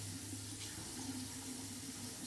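Water runs steadily from a bathroom tap during a morning skincare routine, a continuous close splashing stream at even loudness with no talking.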